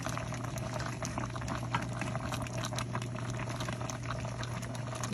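Coconut cream stirred into a simmering chicken curry, a steady low bubbling and liquid patter that holds evenly throughout, close and moderately quiet with no voices.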